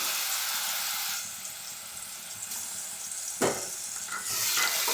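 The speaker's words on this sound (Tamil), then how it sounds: "இது நல்லா கொஞ்சம் நெய்யிலே ஃப்ரை ஆகும்." Small banana pieces fry in ghee in a pan for Satyanarayana prasadam, giving a steady hissing sizzle with a brief scrape of stirring partway through.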